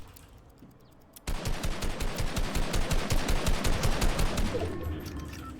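Rapid automatic gunfire in the video game Fortnite: a loud, steady rattling burst that starts abruptly after a quiet second and keeps going to the end, close and dominant.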